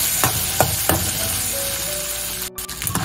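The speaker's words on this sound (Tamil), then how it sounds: "சுண்டை வத்தலையும் இதுல வறுத்துக்கலாம்" Dried turkey berries (sundakkai vathal) frying in hot oil, a steady close sizzle broken by a few scraping stirs and a brief clatter near the end.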